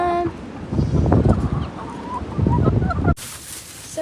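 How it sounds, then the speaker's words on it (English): Chickens gathering for breakfast feed in a farmyard, with bursts of clucking and honking-like calls from several birds at close range, two busy clusters of sound before an abrupt cut. "And all the chickens over here will just come and eat."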